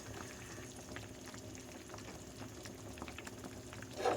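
A patola dish boiling in a pot, a soft continuous bubbling simmer at low volume with faint scattered pops, and a brief louder stir or clink at the very end.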